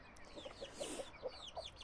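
A hen clucks nearby in a quick series of short, soft clucks and murmurs, with a few faint chirps in between.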